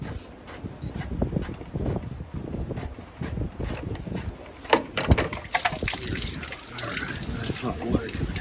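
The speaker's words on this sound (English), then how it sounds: "Hot water coming out of that." Hot water gushes and splashes from the plumbing of a Pentair MasterTemp pool heater during a bypass assembly replacement, a continuous close flow broken by clanks and knocks, with someone talking throughout.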